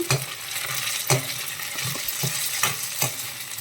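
A spoon stirs drumstick, tomato and milk curry in a pan, making soft scraping strokes at uneven intervals over a faint, low simmering sizzle. Nearby and fairly quiet, with no talking.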